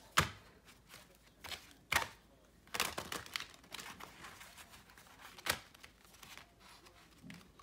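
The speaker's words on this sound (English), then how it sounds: "Always like to shuffle like this." Soft papery riffling and sharp card flicks come in quick bursts with quiet pauses, a tarot deck being shuffled close by.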